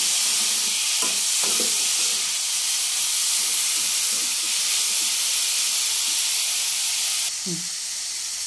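A banana flower stir-fry is mixed in a hot pan, with a steady loud hiss of steam and frying throughout and soft low knocks and scrapes of the spoon against the pan.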